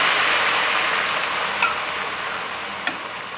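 Onion soup simmers in stock, a steady soft bubbling hiss that runs throughout, with two small clinks or pops near the end.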